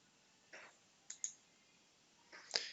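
Computer mouse clicking on a date in a booking software calendar: a handful of sharp, quiet clicks, spaced apart with a quick double tap in the middle and another pair at the end, over near silence.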